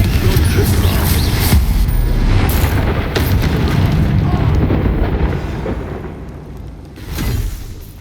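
Confringo spell explosion in the Hogwarts Legacy video game, a heavy sustained booming blast with rumble fading after five seconds and a further thud near the end; a voice is briefly heard.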